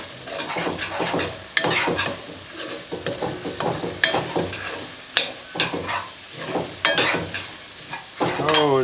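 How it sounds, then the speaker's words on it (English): Onions browning in a pot for Cajun smoked ponce (chaudin), sizzling steadily while a utensil scrapes and stirs them in repeated strokes, close and fairly loud with no talking. "See how these onions starting to brown, just kind of sweating them down a little bit."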